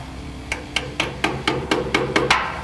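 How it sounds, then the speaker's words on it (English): A hammer taps a horseshoe-shaped suspension keeper on a C2/C3 Corvette rear suspension, about nine sharp metallic taps at an even, quickening pace, close and fairly loud. "Give it a little tap of the hammer."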